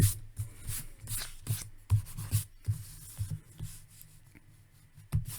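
An eraser rubs across a drawing on thick Bristol board in quick, rhythmic back-and-forth strokes, close and fairly soft, with short pauses between bursts.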